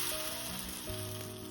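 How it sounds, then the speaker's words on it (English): Oatmeal pancake batter sizzles steadily on a hot griddle, a continuous close hiss with a faint tonal hum beneath, no voices. "I'll just drop spoonfuls of the batter onto my griddle"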